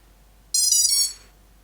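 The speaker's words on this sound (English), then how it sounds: "those second 2 beeps just means the flight controller has started up as well" Electronic startup beeps from the ESCs on a home-built FPV quadcopter: a short, loud burst of high-pitched tones lasting about half a second, then fading into quiet.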